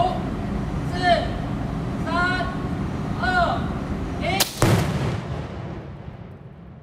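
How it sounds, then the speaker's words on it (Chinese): A single sharp, loud blast cracks out after some speech and chirping sounds, followed by a rolling fade of echo. "接下来会有非常大的爆炸声响，请各位长官、贵宾捂住您的耳朵"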